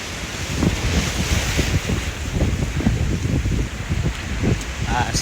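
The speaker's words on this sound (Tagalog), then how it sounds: "Lakas ng alon guys." Choppy ocean waves slap and churn around a boat, with strong wind buffeting the microphone throughout; a voice briefly speaks near the end.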